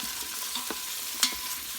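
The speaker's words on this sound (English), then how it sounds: "so you can saute the onions a little bit here." Onions sautéing in about three tablespoons of olive oil in an electric pressure cooker on its sauté setting, with a steady soft sizzle and a few light stirring scrapes, one sharper clink near the end.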